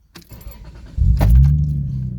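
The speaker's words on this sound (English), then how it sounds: "So I'll switch off the engine, restart it again." A Toyota Supra mk3 GT 3.0 engine cranks and fires into a loud, steady idle close by, with a brief jangle of keys at the start.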